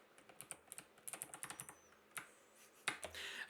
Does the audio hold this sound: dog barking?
no